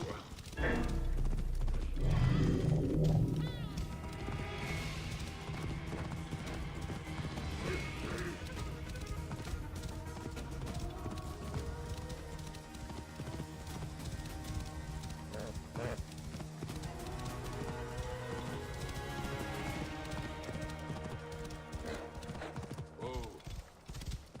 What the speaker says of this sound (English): I like the horse riding in this.